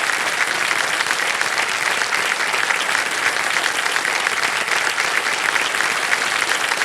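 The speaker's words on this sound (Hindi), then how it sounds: "तालियां बज जाए इनके लिए" A game-show studio audience on Kaun Banega Crorepati applauds in a loud, dense, unbroken roar of clapping that holds steady for several seconds.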